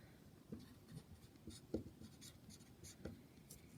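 A pen or pencil writing the word photosynthesis on paper in a science lesson, with faint scratchy strokes coming in short irregular bursts, close and quiet.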